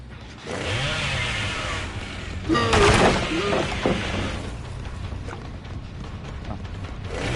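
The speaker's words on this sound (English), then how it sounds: "I'm just gonna rev my chainsaw literally right in front of your locker" Chainsaw revving in the Dead by Daylight video game, a loud, sustained buzzing roar with a sharp surge in the middle, heard close up with no talk over it.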